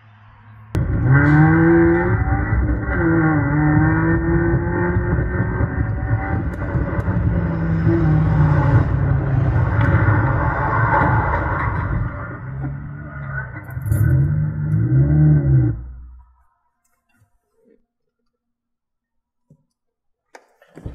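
A 1997 Honda Civic del Sol driving, played back through a car stereo's aux input, gives a steady loud engine drone with shifting pitch for about fifteen seconds before cutting off to silence.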